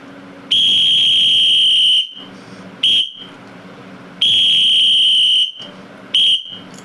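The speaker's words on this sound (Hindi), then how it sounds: "ये सीटी शुरुआत में बजती है" A whistle blows in an alternating pattern of long and short blasts, long, short, long, short, shrill and close, with quiet gaps between them and no talking.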